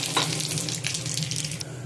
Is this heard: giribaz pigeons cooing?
no